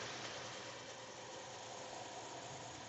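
A semi truck engine idles in a low, steady rumble with a faint rattling vibration, running the air conditioning, fairly quiet and unchanging, no voices.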